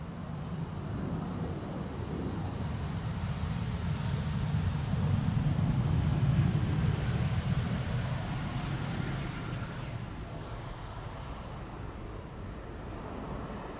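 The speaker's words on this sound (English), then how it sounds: "This is KLM flight 1005 to London Heathrow, E2 Embraer 195." A KLM Embraer 195-E2 airliner departs a runway at Amsterdam Schiphol, heard as a steady, broad low rumble and roar that swells slightly mid-way and stays fairly subdued, with no talking.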